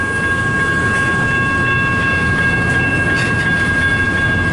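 Double-stack cars of a CN local freight roll slowly by in Richmond, Michigan, a continuous close, heavy rumble of wheels and rail noise with a thin steady whine above it, no voices.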